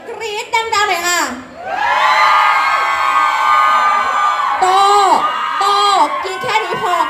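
A crowd at a Thai mini concert screams and cheers loudly in a sustained wave of high shrieks and whoops, swelling after an MC's prompt, with a voice over the PA at the start and the cheering holding strong to the end.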